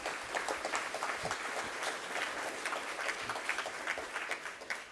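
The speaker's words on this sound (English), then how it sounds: "Give them a round of applause for the lightning round." An audience at a Newport Beach city council candidates forum claps in a sustained burst of applause, dense and fairly close, holding steady before tapering off.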